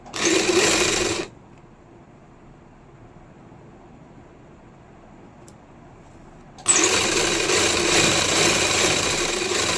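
A sewing machine stitches a chak patti strip for a lined kameez, running loud and close at the start, falling silent for several seconds, then whirring steadily again to the end.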